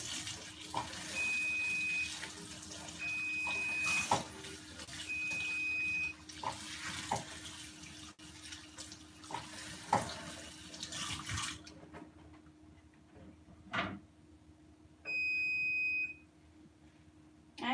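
Tap water runs steadily into a sink during arm washing, a continuous close splash with short beeping tones cutting in, then the flow stops near the end, leaving a quieter room.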